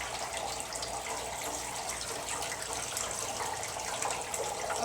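Water is poured over a perforated tray holding a sample, simulating rainfall, a steady close hiss of falling and splashing water that runs unbroken throughout, with no talking.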